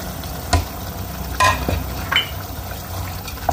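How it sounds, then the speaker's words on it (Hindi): Four tomatoes drop into minced keema cooking in a pan, followed by sizzling and spoon stirring with several distinct scraping clatters over a steady close frying hiss. "4 टमाटर डाल देंगे हम इसके अंदर"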